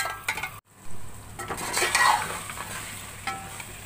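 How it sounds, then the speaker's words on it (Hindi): Goat brain is stir-fried in masala in a pan, with a near, continuous sizzle, repeated scraping and clinking of a metal spoon against the pan, and a brief drop to silence early on. "अब इसमें भेजा शामिल कर लेंगे। अब इसको थोड़ी देर भून लेंगे।"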